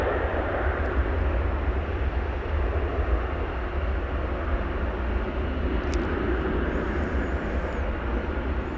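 An airliner lands on runway 18 left at DFW Airport with a steady, broad roar of jet engines, loud and continuous with no break.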